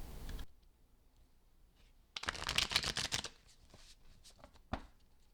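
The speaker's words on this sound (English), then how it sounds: "I'm going to see if I can't shuffle it all together." A deck of tarot cards is shuffled by hand in one dense burst of riffling and flicking, with scattered light clicks before and after.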